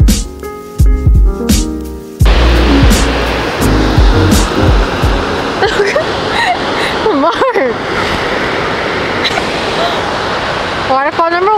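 Loud rushing water roars steadily like a waterfall, with people talking over it and a brief musical or honking sound at the start.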